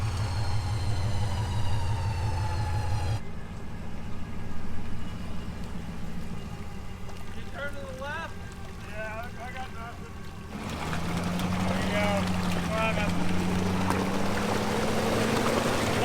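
A truck stuck in a deep rut of gooey mud on a mountain track revs its engine in surges, climbing in pitch toward the end, with voices talking over parts of it.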